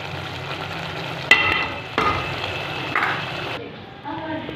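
Potatoes and capsicum fry in a pan with a continuous close sizzling hiss, broken by a couple of sharp clicks of a spoon stirring and scraping.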